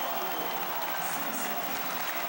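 A stadium crowd applauds as a player's name is announced over the public address at a River Plate versus Rosario Central football match, a steady dense roar of clapping throughout, broad and fairly distant.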